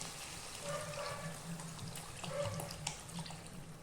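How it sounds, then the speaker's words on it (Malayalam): Two cups of water pour into a pan of chicken cooked in ghee for a ground-coconut chicken curry, making a close, continuous splashing gush. "ഇനി ഇതിലേക്ക് രണ്ട് കപ്പ് വെള്ളം ഒഴിക്കുക"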